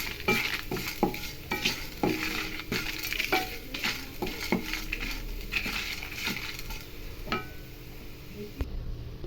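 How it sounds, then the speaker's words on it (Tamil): Grated coconut sautéed with fried lentils in a pan gives a soft sizzle under a quick, irregular run of spatula clicks and scrapes against the pan, close up and moderately loud. "தேங்காய் போட்டு லைட்டாக அதை வதக்கிடலாம்."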